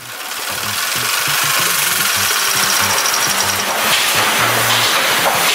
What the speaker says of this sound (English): Kempton Park Big Triple Steam Engine.